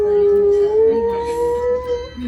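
A dog howls in one long, close, wavering tone that slowly rises in pitch, sounding while a baby cries at home.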